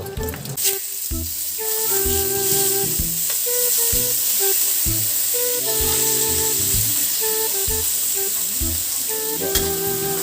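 Beef steaks sizzle steadily in a hot pan, a continuous close frying hiss with crackles throughout, while background music plays underneath.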